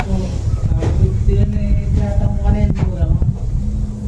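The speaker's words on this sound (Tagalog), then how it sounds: "malakas po ang hangin. Pasok na pasok po dito ang hangin sa loob ng kusina." Strong wind gusts into an open home kitchen, making a steady, loud, rumbling roar with buffeting against the microphone, while faint voices murmur underneath.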